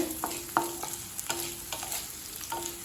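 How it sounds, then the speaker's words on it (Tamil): Capsicum sautéed in a pan for chutney, a soft sizzle under irregular scraping and clinking strokes of a spatula against the pan, close but fairly quiet, no one speaking. "குடமிளகாய் பாருங்கள், பச்சை வாசனை போக வதக்கியாச்சு"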